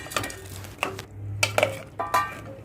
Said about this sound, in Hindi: अब हम इसमें डाल रहे हैं खड़े मसाले।